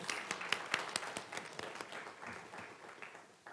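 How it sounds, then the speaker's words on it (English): Small group applause at a school board meeting recognizing a new fine arts director, quiet scattered claps with distinct individual hits early, thinning out toward the end. "Let's give her a round of applause."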